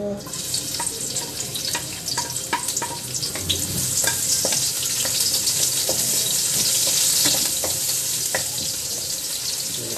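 Dinuguan ingredients frying in hot oil with banana blossom, a loud continuous sizzle with crackling pops and occasional utensil clicks throughout.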